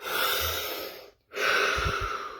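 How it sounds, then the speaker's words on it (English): A single deep breath taken close to the microphone, a long airy inhale followed by a short silent pause and a longer, fuller exhale. "One deep breath."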